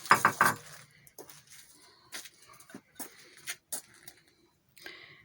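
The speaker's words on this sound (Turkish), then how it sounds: "Güvecimizin üzerini kapatıyoruz." A lid is set onto a clay güveç casserole for a Balkan-style dried bean stew over a wood fire, with a quick burst of sharp ceramic clinks followed by scattered lighter taps and clatter.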